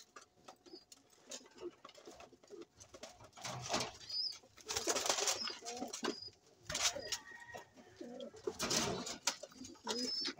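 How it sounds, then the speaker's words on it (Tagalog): Pigeons or doves kept as pet birds in an upstairs coop coo softly at close range, with rustling and brief patter around them, and no talk. "meron pa siyang ibon naman si Pulanggi sa taas ito"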